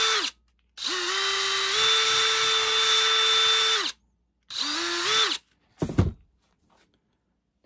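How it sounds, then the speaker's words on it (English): A power drill bores a hole through a gear or bow hanger strap, sized for paracord: a long whining burst, a short second burst, then a brief clunk and silence, close and loud with no voices. "Next step, just to drill a hole."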